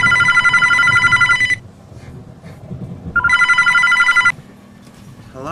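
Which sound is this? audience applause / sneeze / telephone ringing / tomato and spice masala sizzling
telephone ringing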